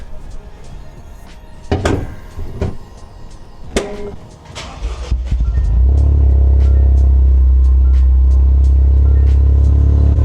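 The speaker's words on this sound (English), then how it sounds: "listen to this exhaust note" A Toyota GR Corolla or Subaru WRX engine starts after a few clunks and settles into a loud, deep, steady exhaust rumble with faint ticking above it.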